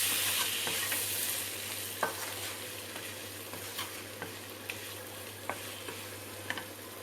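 Mutton liver fry with cashews and lemon juice sizzles softly in a pan while a spoon stirs it, leaving a few light taps and scrapes over the steady, quiet frying hiss.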